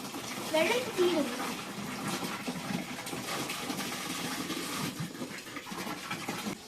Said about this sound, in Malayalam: നല്ല ഫോഴ്സിൽ വെള്ളം വരുക ഫോഴ്സ് കൂടുതലാ